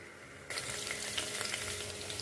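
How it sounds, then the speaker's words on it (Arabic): Onions hit hot oil in a cooking pot, half a cup of oil, and start sizzling abruptly after a quiet moment, then keep up a steady bright frying hiss with small pops and crackles. "توا نبدا نقلي في البصل شويه، ما نخليش حتى يتحرق"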